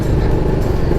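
Heavy morning road traffic on Ecoland Drive toward downtown, a loud close engine drone that holds steady through the whole moment, recorded from a moving motorcycle.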